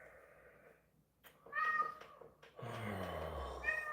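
A house cat meows close by, a couple of short calls among indoor rustling and a swelling background noise.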